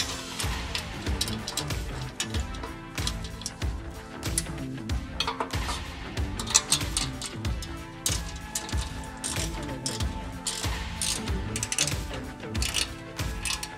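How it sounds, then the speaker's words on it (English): Ratcheting clicks and metallic clinks come from a wrench loosening three 10 mm bolts on the bumper brackets of a RAM ProMaster van, a busy, continuous run of close mechanical ticking with no talk. "So we're just gonna loosen up these three 10 millimeter bolts."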